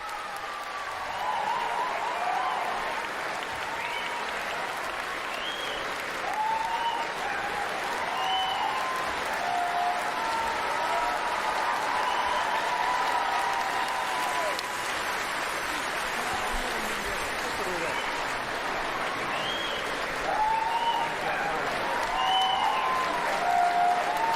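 Crowd applause at a stage show, a dense, continuous wash of clapping and cheering that holds steady for over twenty seconds, with occasional whistles and shouts rising above it.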